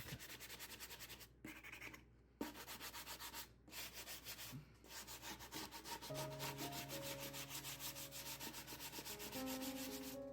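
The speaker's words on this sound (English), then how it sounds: "I'm using a 120 grit sanding block." A rough wooden table is hand-sanded with a 120 grit sanding block: steady back-and-forth rasping strokes, close and continuous, with a few brief pauses between passes and no talking.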